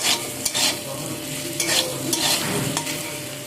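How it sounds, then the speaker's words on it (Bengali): Potatoes frying lightly in a pan with turmeric and salt: a continuous soft sizzle broken by several sharp scraping stirs of a spatula, close and with no voices. "হলুদ আর লবণ দিয়ে আলুটাকে আমি হালকা ফ্রাই করে নেব।"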